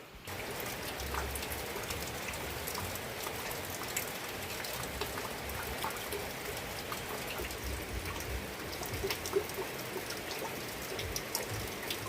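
Steady rain falls outside a village home on a rainy day, a soft continuous patter of drops on surfaces, moderately faint and unbroken, with no voices.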